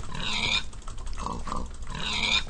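Pigs oink and grunt in a Hunger Games–style multiplayer video game, with two bursts of squealing grunts at the start and end of the clip and rougher game noise between them.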